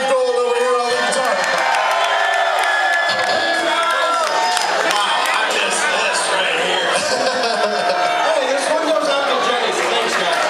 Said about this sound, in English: everyone give a big cheer for Dave Gold over here on the guitar